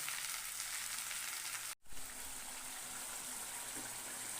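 Chicken sizzles steadily in a pan with a spice paste of ginger, garlic, onion, tomato and green chili, a close, continuous frying hiss broken once by a brief gap.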